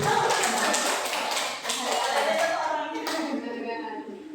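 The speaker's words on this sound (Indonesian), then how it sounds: "Tepuk tangan untuk kita semua." Teachers at an Indonesian school event applaud together, a dense, fairly loud burst of clapping from a group indoors that continues for several seconds with voices mixed in.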